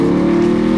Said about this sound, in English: It's dual exhaust. It maintains that distinctive rumble.